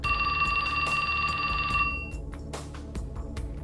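A telephone rings with a bright, steady electronic tone over background music, then stops partway through.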